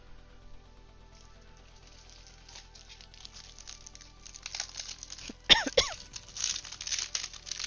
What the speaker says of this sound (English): I'm sorry I'm so like coughing and clearing my throat and all of that.